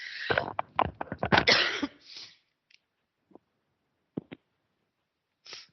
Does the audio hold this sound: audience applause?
no